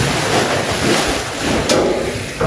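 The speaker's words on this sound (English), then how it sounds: "We pull the handle up and then empty it like that." Water tipped out of an emptied tipping trough in a Jersey cow dairy shed, a steady loud rush of pouring and splashing throughout, close to the microphone.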